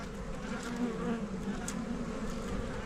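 Honey bees at an open hive: a dense, continuous buzzing drone, close and steady throughout, with no voices.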